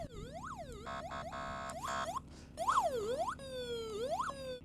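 Police car siren from an old abandoned police vehicle, loud and close, cycling through several tones: rising-falling wails, rapid yelps and a steady high tone, switching patterns every second or so with no talking.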